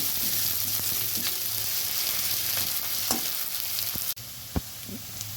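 Onions frying in a pan give a steady close sizzle and crackle, with occasional scraping stir knocks, one sudden louder clunk near the end followed by a slightly quieter sizzle; no talk.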